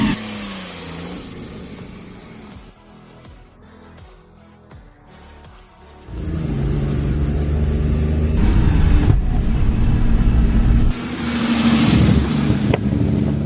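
Restored 1960 Ferrari 250 GT on a road test, its engine loud and close as it accelerates and revs, with heavy wind rush across the microphone and a quieter stretch before the engine swells again.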